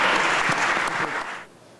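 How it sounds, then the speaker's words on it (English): A room gives a round of applause for local Minnesota House candidates, dense steady clapping that holds for over a second and then fades out. "please join me in giving a round of applause for our candidates"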